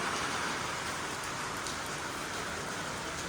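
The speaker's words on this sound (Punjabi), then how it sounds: "ਵੀ ਅੱਜ ਮੀਂਹ ਪੈਣ ਲੱਗ ਗਿਆ" Steady rain falls outdoors with a dense, even hiss of drops hitting surfaces, continuous and moderately loud, with no voices.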